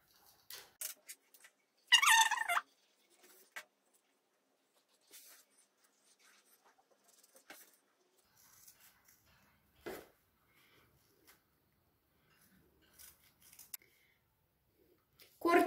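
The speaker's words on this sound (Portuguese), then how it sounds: "Cortei os 4 cantinhos da caixa de leite." Scissors snip through the corners of a milk carton in a few sharp, isolated cuts separated by quiet pauses, close and crisp with no talking.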